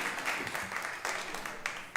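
An open mic audience claps steadily, a dense patter of hands that keeps going with small surges, somewhat distant in the room, with faint talk underneath.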